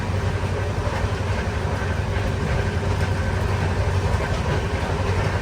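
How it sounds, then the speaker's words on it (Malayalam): An express sleeper train runs at around 115 to 120 km/h, heard from inside as a loud, steady rumble and roar with continuous rail noise and no talking. "ട്രെയിനൊക്കെ നല്ല അത്യാവശ്യം നല്ല സ്പീഡുണ്ട് കേട്ടോ, ഡിലേ ഇല്ല."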